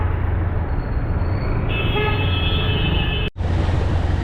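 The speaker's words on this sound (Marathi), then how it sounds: "तर इथं फुल ट्रॅफिक लागले" A car horn toots in a long steady note over the constant rumble of engines in a jammed road of traffic near Karjat, with a brief dropout near the end.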